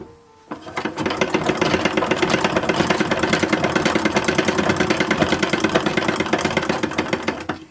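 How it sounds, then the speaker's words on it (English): Sewing machine stitching the sleeve seams of a skating outfit for an 1860s doll, a loud, close rhythmic needle chatter over a motor hum, running steadily for several seconds after a soft start. "I'm going to sew them up the seams first."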